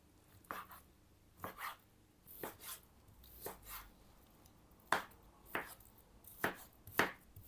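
A knife chopping 500 grams of mushrooms on a cutting board for a classic julienne, sharp separate chops in small clusters, close and clear in a quiet kitchen with no talk.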